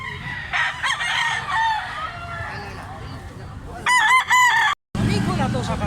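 Gamefowl stag crowing at Carbon market in Cebu, one loud, close crow near the end over a busy background of other fowl and people talking.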